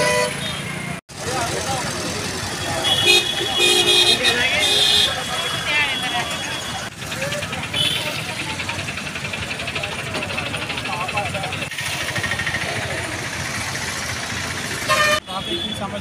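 Heavy traffic at the Nirmal bus stop in Ichoda, where buses stop side by side. Short car and bus horn toots sound over a constant loud road roar, and voices can be heard throughout.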